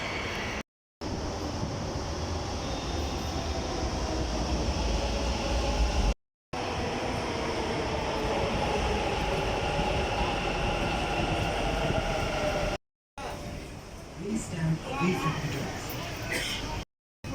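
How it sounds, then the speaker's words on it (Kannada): Steady rumble and rattle of a Bangalore metro train riding along, loud and continuous, with brief gaps and faint talk in the background. "ಸೊ ಇಲ್ಲಿಂದ ಚಿಕ್ಕಪೇಟೆಗೆ ನಮ್ಮ ಮೆಟ್ರೋ ಪಯಣ"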